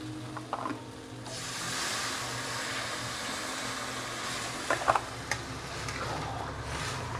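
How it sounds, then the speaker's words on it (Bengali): Water poured into a hot pan of frying prawns and taro for a Bengali curry sets off a sudden, steady sizzling hiss that holds for several seconds, close by, with a few small clinks. "এবার আমি জল ঢেলে দেবো"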